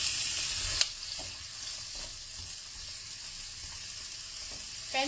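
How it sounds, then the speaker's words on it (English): Potato pieces pan frying in oil with a continuous close sizzle, a sharp clatter as they go in, then a few soft stirring bumps and a final scrape. "Pan fry the potato."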